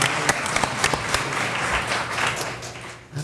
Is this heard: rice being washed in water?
no